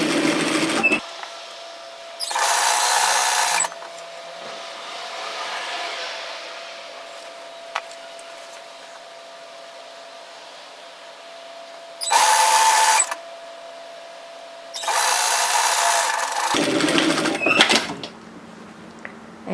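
A sewing machine stitches a seam at 1 centimetre on a floaty top, running in several bursts of even, buzzing whir with quiet pauses between them.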